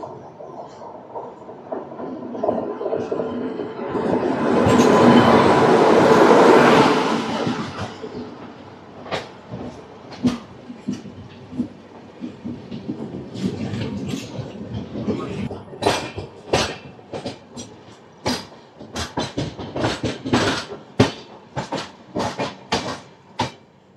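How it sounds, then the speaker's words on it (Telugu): A loud rush of an approaching Mumbai LTT to Visakhapatnam express train swells and fades, followed by a long run of sharp rhythmic clacks as carriages roll by. "ఈ వస్తున్న ట్రైన్ వచ్చేసరికి ముంబై LTT నుంచి విశాఖపట్నం వరకు వెళ్ళే ఎక్స్ప్రెస్ ఇది"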